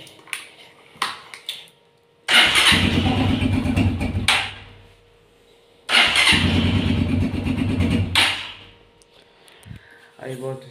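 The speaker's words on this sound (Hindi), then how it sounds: "पहले इसका स्टार्ट करते हैं और साउंड सुनते हैं।" A dirty motorcycle being kick-started outdoors: two loud bursts of engine cranking and sputtering, each lasting about two seconds, separated by quiet, followed by short clicks and a faint brief rattle at the end.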